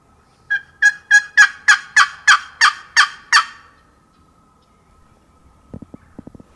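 A wild turkey gobbling in snowy spring hills, a rapid series of about ten loud, close, rattling gobble notes over three seconds, followed by quiet and then faint rustling or crunching footsteps.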